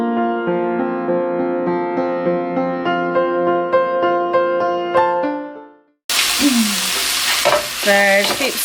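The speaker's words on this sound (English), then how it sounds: "So just keep stirring them around." Broccoli and Parma ham stirred in a hot pan for a pasta dish give a brief broadband sizzle with scraping. It comes only in the last couple of seconds, after several seconds of instrumental music.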